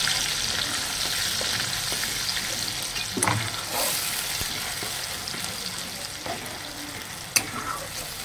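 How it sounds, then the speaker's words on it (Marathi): Puréed tomato from two tomatoes sautés in a pan for a festive vegetarian thali, a steady close sizzle with occasional stirring scrapes and one sharp clink near the end. "तर इथे मी 2 टोमॅटोची प्युरी करून घेतलेली आहे आणि परतून घेऊयात।"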